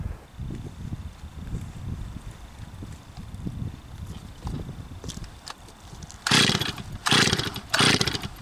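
A Stihl 036 chainsaw making a test cut on a tree outdoors in wind, heard mostly as a low rumbling idle before three loud bursts of high-revving cutting close by near the end.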